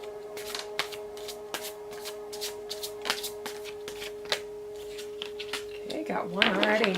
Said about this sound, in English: I'm just gonna pull a card from a deck that feels appropriate based on the reading